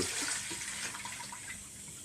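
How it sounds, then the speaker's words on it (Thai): Water pours steadily into a cooking pot in a continuous splashing stream, close and fairly quiet, with no pauses. "เทน้ำใส่หม้อเลย"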